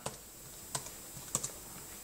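A few sparse, quiet keystrokes on a computer keyboard as a website address is typed in. The clicks come in small, irregular taps with no speech.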